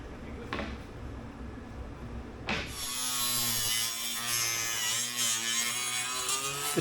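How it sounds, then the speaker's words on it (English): A power grinder whines loudly as it grinds laminated core mat out of a fiberglass dinghy hull to form a rebate, starting after a quieter lead-in and running in a sustained, close, buzzing drone. "core mat that was laminated in is ground out to form a rebate"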